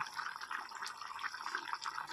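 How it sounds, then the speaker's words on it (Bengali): A covered pot of thin fish curry broth at a rolling boil gives off a steady, close bubbling and gurgling with no pauses and no voices. "দেখো মাছের জালটা আমার টকবক করে ফুটে যাচ্ছে"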